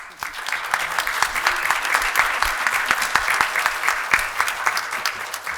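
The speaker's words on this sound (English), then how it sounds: "We'll just accept a round of applause" A modest gathering at a city council meeting applauds in honor of a police officer's family, scattered distinct hand claps in a loose steady patter, fairly close, with no voices.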